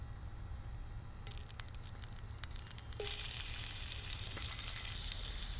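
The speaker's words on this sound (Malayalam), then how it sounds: "ഇതിലേക്ക് ഒരു ചെറിയ 2 കഷ്ണം ബട്ടർ കൂടി ചേർത്ത് കൊടുക്കണം." Butter pieces drop into hot oil in a pan for a vegetable and chicken korma, starting a soft sizzle that jumps to a louder, steady crackling hiss after a few seconds, close and without talk.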